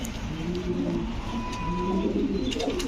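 White Top Bokhara fancy pigeons at a breeder's farm give low, rolling coos, several overlapping throaty calls close by over soft background noise.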